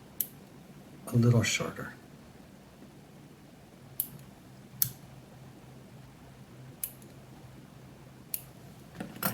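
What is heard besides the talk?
scissors trimming fly tying tails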